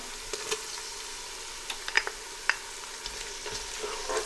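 Whole star anise, cinnamon stick, cardamom pods, cloves and garlic fry in hot oil in a pan, a soft continuous sizzle broken by occasional sharp crackles and pops.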